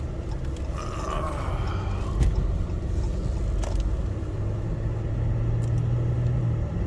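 A Jeep Cherokee KL drives along a road, giving a steady low engine and road rumble from inside the cabin. A brief thump comes near the start, and a low drone swells later on, with no talk.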